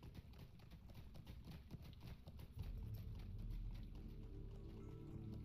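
Rhythmic clip-clop of horse hooves in the video game Lord of the Rings Online, steady and fairly close, with the footfalls growing heavier and denser partway through.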